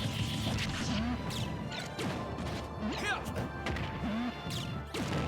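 Forward smash attacks in a Super Smash Bros match between Captain Falcon and Falco, landing as repeated loud whacks and crashes with swishes, in an irregular rhythm amid busy game effects.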